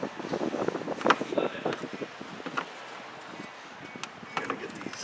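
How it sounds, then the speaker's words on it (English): Outdoor wind buffets the microphone beside a Chevrolet 2500HD 6.6 pickup, producing uneven rumbling gusts that rise and fall, with quiet handling noises and no clear talk. "I know the wind's probably getting you guys"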